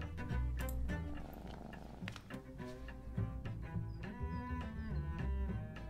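A cat purring close up in a low, continuous rumbling rhythm that carries steadily through the whole stretch, loud and alone with no voices over it.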